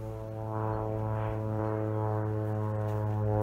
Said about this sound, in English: So I don't know if you'll see the spray plane.